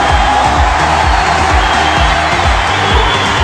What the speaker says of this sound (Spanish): Escuchen los aplausos.